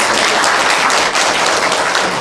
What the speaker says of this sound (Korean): 그분들께도 여러분들께도 박수